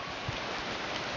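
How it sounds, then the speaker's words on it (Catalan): Rain falls steadily on a trail through a beech forest along the Camino de Santiago, a dense, even close hiss that fills the whole moment with no voices. "Torna a ploure."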